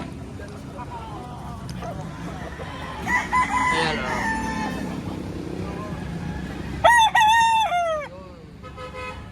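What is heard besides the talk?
chickens and rooster crowing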